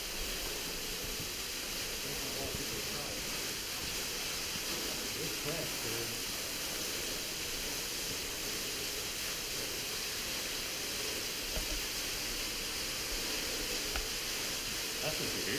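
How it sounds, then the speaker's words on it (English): Steady broadband rushing of a waterfall inside a large cavern, a constant hiss-like roar filling the space with faint occasional drips. "came across another big cavern with another waterfall"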